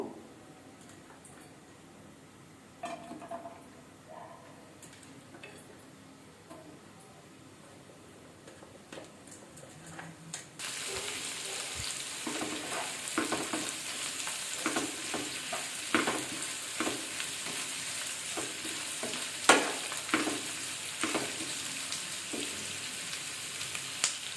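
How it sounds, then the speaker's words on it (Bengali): Chopped onions for biryani birista hit hot oil: quiet at first, then a steady loud sizzle begins partway through, with scraping stirs and small pops running on to the end. "এই যে অনিয়নটা দেখছো চপ করে রেখেছিলাম, এটাকে দিয়ে অনিয়ন বেরেস্তা বানিয়ে নেব।"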